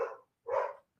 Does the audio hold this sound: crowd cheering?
no